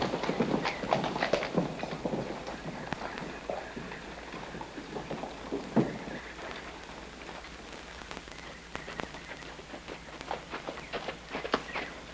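Horse hooves clatter in a busy, irregular rhythm as horses gallop quickly over hard ground, with a steady noisy wash behind them.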